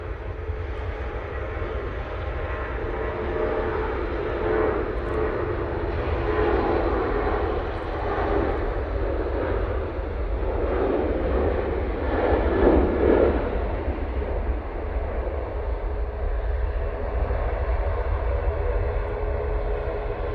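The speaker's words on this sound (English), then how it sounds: "After Bologna, we go with this Ryanair 737-800." A Ryanair Boeing 737-800 jet departs Manchester Airport with a loud, continuous engine roar that swells in the middle and holds steady for the full span, with no voices.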